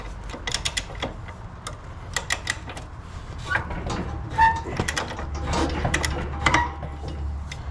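A hand ratchet tightening the track tensioner on a worn skid steer track frame, with quick repeated clicking strokes in short runs, close and fairly loud amid light workshop clatter.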